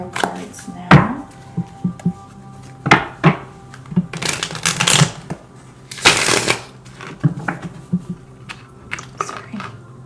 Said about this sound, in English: let's pull some tarot cards now